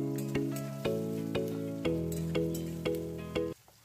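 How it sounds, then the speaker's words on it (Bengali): Whole black peppercorns, cinnamon pieces, green and black cardamom and cloves frying together in oil, a continuous close sizzle under repeated sharp taps of a spoon against the pan, regular about every half second, with no talk. "একসাথে ভেজে নেব।"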